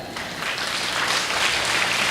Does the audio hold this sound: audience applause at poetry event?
yes